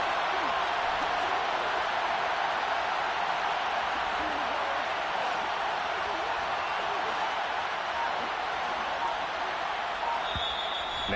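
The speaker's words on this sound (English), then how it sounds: "this crowd's going to get even louder" Football stadium crowd roaring during a Buffalo Bills game, a loud, continuous wall of distant cheering and noise that holds steady without letup.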